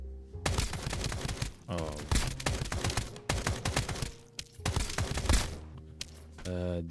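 Rapid bursts of gunfire with heavy recoil from a weapon in Escape from Duckov, loud close volleys of shots in several clusters separated by short gaps, with a brief voice exclamation.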